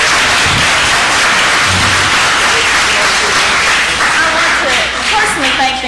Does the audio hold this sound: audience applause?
yes